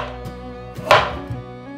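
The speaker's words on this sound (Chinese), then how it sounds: "像这样子，把红萝卜切片。" A knife cuts carrot slices on a board with a few soft, separate taps, one sharper chop standing out against steady background music.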